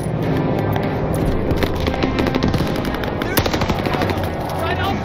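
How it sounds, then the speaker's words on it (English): Sustained enemy machine gun fire in the Call of Duty Vanguard campaign, a loud, dense rattle of rapid bursts filling the whole stretch with battle noise and voices mixed in. "Enemy machine gun."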